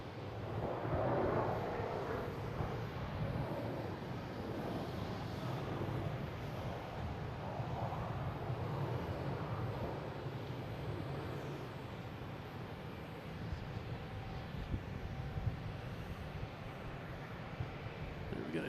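An American Airlines jet arriving at Boston Logan International Airport gives a steady, broad engine roar that holds throughout, with wind buffeting the microphone and a faint whine late on.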